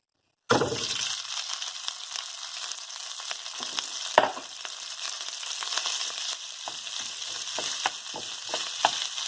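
Day-old rice frying in a hot pan for local-style Hawaiian fried rice gives a loud, steady sizzle, broken by sharp scraping and clicking of stirring throughout.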